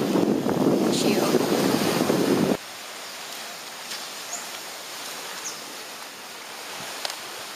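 Wind on a sunny day in Chonburi, Thailand buffets the microphone in a loud rush for the first few seconds, then settles into a softer, steady outdoor hiss with faint distant sounds.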